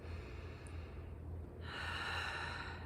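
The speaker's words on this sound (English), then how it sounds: "you can resume that breathing in through your nose" A single demonstration breath drawn in through the nose as a labor breathing technique, a soft close sniffing inhale that swells into a fuller airy rush in the latter half, alone without talk.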